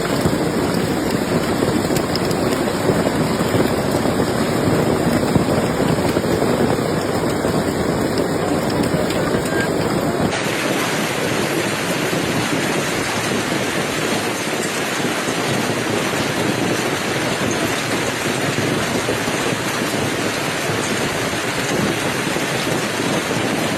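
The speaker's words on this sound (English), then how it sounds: "The hailstones, some as large as golf balls and others with jagged edges, pounded rooftops, trees," A dense, loud, unbroken roar of hailstones pounds rooftops, trees and vehicles in Paris, with no let-up from start to finish.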